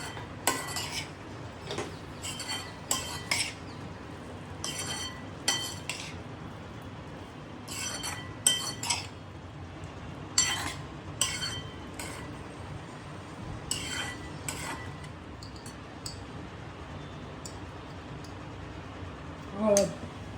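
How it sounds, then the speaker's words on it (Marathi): Ginger garlic paste mixture being stirred in a metal pan, with a series of sharp scraping and clinking strokes of the spoon against the pan, close by, separated by short pauses over a low background. "आता ही परत मिक्स करायची."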